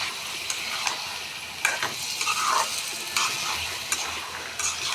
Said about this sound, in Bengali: টমেটো, আদা, রসুন, জিরা, ধনিয়া, মরিচের গুঁড়া, হলুদের গুঁড়া সব দিয়ে এখন কষাই নিতেছি ভালো করে